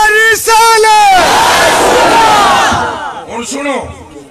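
Men at a religious gathering shouting a slogan together in response to the speaker, a loud massed roar that swells and fades, followed by more chanted voices near the end.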